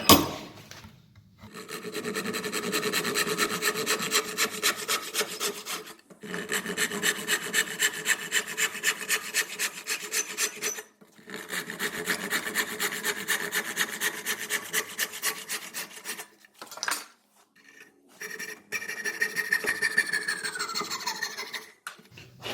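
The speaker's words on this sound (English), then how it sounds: "I just find it easier to keep a square cut with a tenon saw." Tenon saw cutting through solid timber for an external door's bottom rail, with the workpiece held in a vise; steady rhythmic rasping strokes in long bursts separated by brief pauses, close and fairly loud, with no talking.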